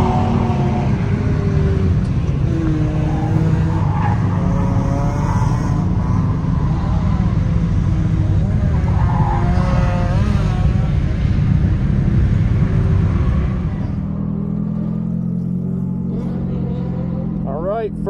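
Burned Mazda Miata drift car at Evergreen Raceway, its engine loudly revving and droning through a lap from inside the car, with someone talking over the noise.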